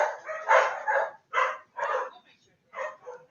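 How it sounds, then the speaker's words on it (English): Dogs bark inside a house in a few short, separated bursts, moderately close and fairly quiet, with gaps between them. "Excuse the dogs."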